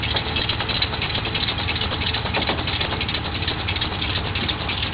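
A 1995 Ram van engine runs steadily with a rattling, knocking clatter from a noisy tensioner pulley, loud and close throughout with no pauses.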